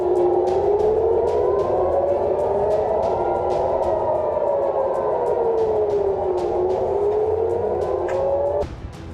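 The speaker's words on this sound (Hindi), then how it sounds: "लगातार सायरन की आवाज से इजराइल का आसमान गूंज उठा है" An air raid siren in Israel during the Israel-Hezbollah war wails loudly and continuously, its pitch slowly rising and falling in long sweeps before cutting off near the end.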